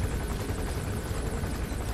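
A helicopter in Metal Gear Solid V: The Phantom Pain thrums steadily overhead, a dense, continuous rotor and engine roar at moderate level with no talk over it.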